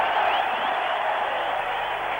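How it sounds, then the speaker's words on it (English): A large crowd at a 1987 Cricket World Cup match between Pakistan and Sri Lanka cheers in a sustained, loud, even roar with no breaks throughout. "Tremendous cheering."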